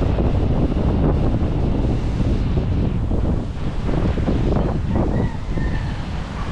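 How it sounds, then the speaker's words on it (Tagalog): Strong monsoon wind blasts hard and steadily against the microphone in a roaring, buffeting rush, loud throughout. "Sobrang lakas ang hangin, habagat."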